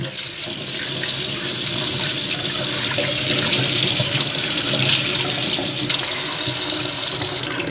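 A makeup brush rinsed under a running tap into a sink, a loud continuous stream of water splashing close by, with the flow shifting slightly as the brush moves.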